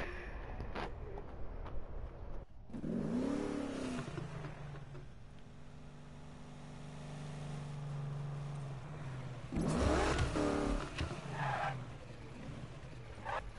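A 1965 Mustang GT engine in the Need for Speed video game, rising revs with a sustained steady drone and a louder second rev surge, played at moderate level.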